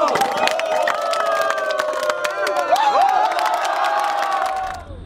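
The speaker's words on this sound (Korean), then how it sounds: "윷을 던질 땐 환호성이 쏟아집니다" A crowd cheers and whoops as oversized yut sticks are thrown during a Chuseok holiday game. Excited shouts and scattered claps ring out close by, continuous and lively throughout, before the noise cuts off abruptly at the end.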